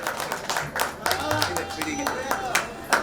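Many hands clap steadily in applause from an audience at a staff gathering for a bus depot in Bhiwandi, a dense, continuous patter heard close up with small swells in loudness.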